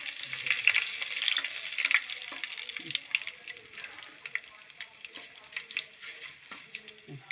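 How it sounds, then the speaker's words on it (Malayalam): Curry leaves frying in a pan for Kerala-style fish curry, a close, crackling sizzle of rapid irregular pops and spits that keeps going throughout, with occasional soft stirring. "കറിവേപ്പില ഇട്ട് അത് പതുക്കെ ഒന്ന് മൂത്ത് കഴിയുമ്പോൾ"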